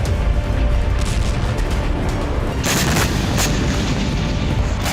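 Artillery fire from a Russian brigade strike on Ukrainian positions, a dense, continuous roar of booms and blasts with a sharper burst near the middle, loud throughout with no talk.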